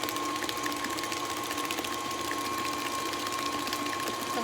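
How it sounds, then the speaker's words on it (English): An electric mixer whirls cream cheese for a keto pumpkin cheesecake, a loud, steady high-pitched motor whine that runs unbroken from start to finish. "give it a good whirl and another round here in the mixer. A little faster."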